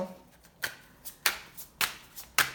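A deck of cards is cut and handled close up, giving a series of sharp papery snaps and flicks at a roughly even pace, with no talk over them.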